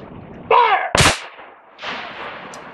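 A cannon fires during an artillery reenactment at River Romance 2014: a shouted command comes first, then a single sharp, loud blast that rings out and trails into outdoor ambience, with a fainter rumble following.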